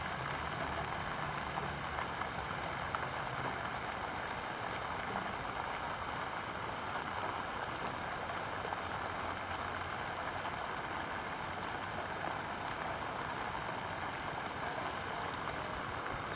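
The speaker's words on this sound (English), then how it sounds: "This is the rain we were needing." A heavy late-summer rain downpour pours down steadily and evenly, a dense, constant hiss that holds at an even level from start to finish with no talk over it.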